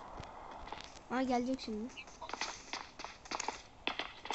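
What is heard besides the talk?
footsteps approaching in PUBG video game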